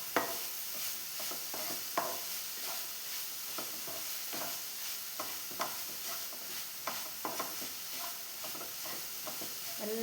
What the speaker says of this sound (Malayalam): എന്നിട്ട് നമുക്ക് നല്ലോണം ഇളക്കി കൊടുക്കാം